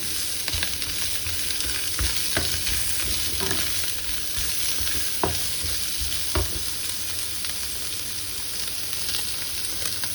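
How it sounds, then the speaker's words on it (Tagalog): Pork and vegetables with onion and garlic sizzling and crackling steadily in a hot pan, with occasional scrapes and knocks of a utensil stirring, close and continuous. "Tuloy pa rin yung prito ko."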